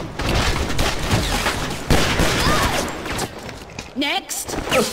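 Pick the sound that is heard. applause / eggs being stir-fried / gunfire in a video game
gunfire in a video game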